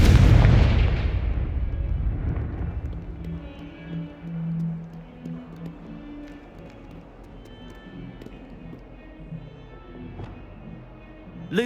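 A Confringo blasting spell goes off in Hogwarts Legacy: one loud close blast opens, then a rumbling tail fades under quieter game ambience.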